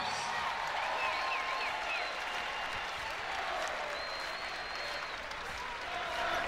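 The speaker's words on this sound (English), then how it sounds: "So Jada Williams gets a nice round of applause too" Fans in an arena at a women's college basketball game applaud freshman player Jada Williams: a steady, moderately distant round of clapping with crowd murmur and faint squeaks, sustained throughout.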